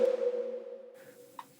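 A deep synth bass note, heavily boosted and sent through reverb, swells into a dark, eerie wash that slowly decays, with a brief ping-like accent near the end; no voices.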